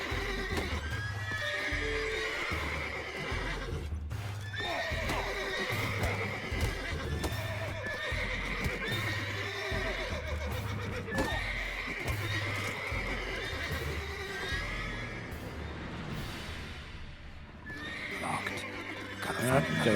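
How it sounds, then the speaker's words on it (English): Horses in The Witcher 3 neigh and whinny repeatedly while hooves clip-clop nearby, a busy, loud scene of several animals, with someone talking over it. "I don't want to fight around these horses."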